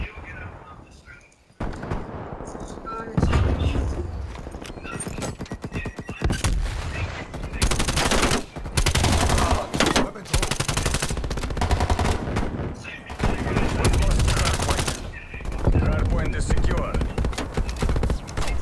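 AK-47 gunfire in Call of Duty Black Ops Cold War Hardpoint on the Hijacked map, repeated loud bursts of automatic fire separated by short pauses, mixed with game sounds and players talking over it.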